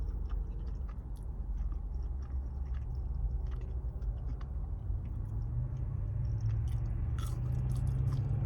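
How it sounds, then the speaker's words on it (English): Someone chews Burger King fries close to the mic, soft wet mastication with occasional crisp bites over a low steady hum, continuous and unaccompanied by speech. "These fries are amazing."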